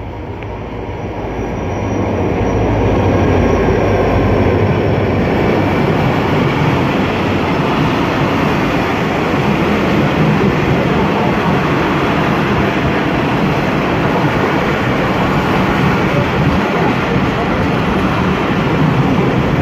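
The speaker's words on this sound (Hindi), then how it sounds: "भाई ये कराची एक्सप्रेस यहाँ पे रुक चुकी है जबकि स्टॉप नहीं है" The Karachi Express rumbles loud and close at Drig Road railway station in Karachi, a dense sustained roar of a passing train building up over the first few seconds and holding steady throughout.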